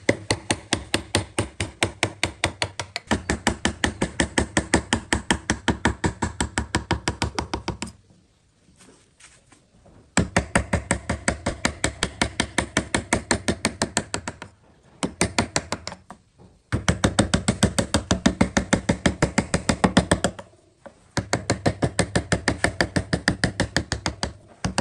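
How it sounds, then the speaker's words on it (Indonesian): A wood-carving chisel, the marking chisel used to lay in the base of an overlapping relief carving, struck by a mallet in fast, even taps. The steady runs of knocks stop several times for short pauses. "kita gunakan pahat coret terlebih dahulu untuk memberi dasaran"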